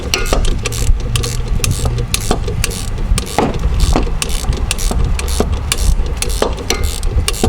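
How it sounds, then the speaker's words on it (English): Ratchet clicking repeatedly while loosening the strut mount nut on a Mazda Protege, with the shaft held steady; close, sharp clicks in an uneven rhythm over a steady background hum. "You're going to hold the shaft steady and just kind of ratchet it like this, and this will bring the nut right off."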